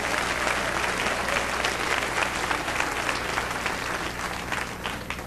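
A church congregation applauds steadily during a sermon, a dense wash of many hands clapping at once that holds strong for the whole stretch, with no voices rising above it.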